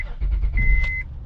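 A 2005 Honda Pilot starts, its engine catching with a brief low rumble while a steady electronic chime rings for about half a second, close and moderately loud.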